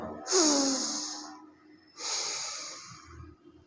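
Two loud, close breaths during a neck-relief yoga exercise, a forceful nasal exhale with a brief rising tone followed by a second long, airy exhale, with no talking.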